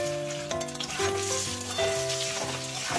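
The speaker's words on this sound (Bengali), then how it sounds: "হালকা ভেজে নেব, বেশি ভাজবে কিনা শক্ত হয়ে যাবে" Paneer cubes sizzle and fry in hot ghee seasoned with salt and turmeric, a loud close crackle with a steady tonal hum underneath and occasional stirring, no talking.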